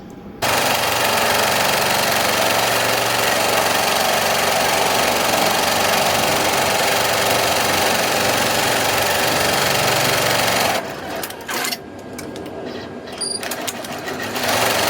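Embroidery machine stitching a tack-down line on a sweatshirt for a side seam bow appliqué, a loud, steady rapid needle chatter running continuously for about eleven seconds before stopping, followed by quieter handling noises.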